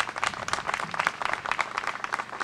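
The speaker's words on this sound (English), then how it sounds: "Let's give him another round of applause." Steady applause from an audience at a press conference, a dense continuous patter of many hands clapping at moderate loudness.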